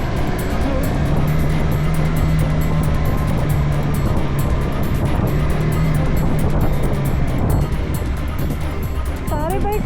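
TVS Apache RTX motorcycle engine pulling hard on a Shimla–Kufri mountain trail, a loud steady drone throughout with rising and falling revs, a rider talking over it.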